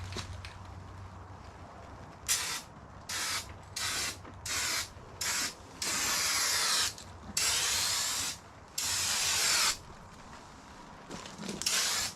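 Spray gun laying down 2K gloss clear coat on a 2001 Dodge 3500 second-gen truck, in a series of loud hissing bursts, several short passes followed by longer sustained sprays, close to the listener with quiet gaps between.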